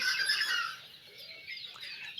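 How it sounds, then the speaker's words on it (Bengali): Tiger chicken chicks on a farm give high, thin peeping chirps that overlap continuously at moderate loudness, with no voices. "আমাদের টাইগার মুরগির বাচ্চা দেখতে পাচ্ছেন অনেকগুলো কালার"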